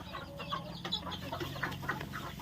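Free-range country chickens on a farm give soft, scattered clucks over a steady low background hum, with no voices.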